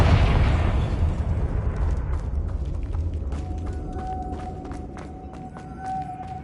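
A blasting spell's explosion in Hogwarts Legacy on PS5: one loud booming burst at the start that decays into a long rumbling tail, with faint crackles and a thin tone ringing in toward the end.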